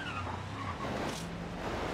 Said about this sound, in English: This thing's really slidey, really fun to drift.